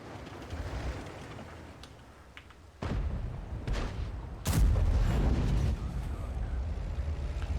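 Two heavy booming tank cannon blasts in a video game, the second louder, each followed by a rumbling tail over constant low engine and battle noise.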